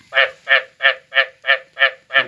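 A male frog calls at night after rain at a frog pond, giving seven evenly spaced, nasal croaks about a third of a second apart, close and clear against a quiet background.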